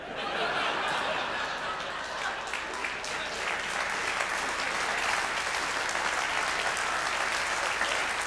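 A live audience at a comedy show applauds continuously, a dense, even wash of clapping heard close that holds steady throughout, with a few chuckles mixed in.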